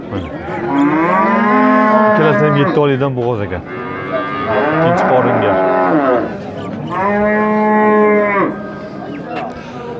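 Cattle moo loudly and close by, long drawn-out calls one after another, with someone talking briefly between them.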